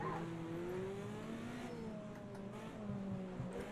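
Classic racing car engine revving hard around the Monaco street circuit in a racing game, a faint but steady snarl whose pitch rises and falls with gear changes, heard alone.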